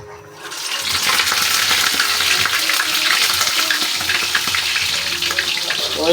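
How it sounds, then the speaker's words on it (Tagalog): Chicken liver sizzles and spatters in hot oil for sisig, a loud, dense crackle that starts almost immediately and holds steady close by. "magpiprito na tayo ng atay ng manok."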